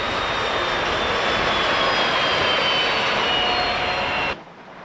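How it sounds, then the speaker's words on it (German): A class 95 steam locomotive pulling into Lauscha station in wintry Thuringia makes a loud, steady broadband roar and hiss that holds for several seconds, then cuts off abruptly near the end. "Die 95er fährt nach Lauscha ein."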